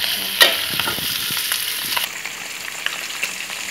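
Sliced pork fat frying over medium-low heat to render lard and cracklings, a constant bubbling sizzle with scattered pops and occasional stirring clatter, close and with no talking.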